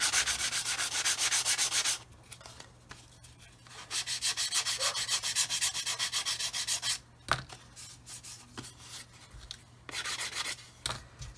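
Close, rhythmic back-and-forth scratching of a sanding stick sanding filler on a 1/48 scale plastic model, in several bursts with short pauses and small taps.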